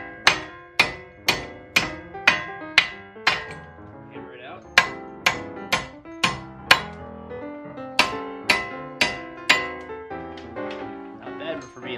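Sharp metallic hammer strikes on stuck wheel studs ring out in a steady series of about twenty blows, close and loud, with a brief pause midway.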